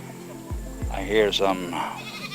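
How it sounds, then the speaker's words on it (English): A few wavering bleats from goats, fairly near, follow a couple of low thumps, with a quiet outdoor background near Haduan Bridge, Clark, Pampanga. "yeah, there, some goats, I think"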